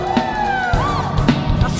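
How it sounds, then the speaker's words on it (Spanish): A church congregation shouts for joy, a brief burst of mixed whoops, yells and cheering voices rising together, loud and close throughout. "Grito de júbilo"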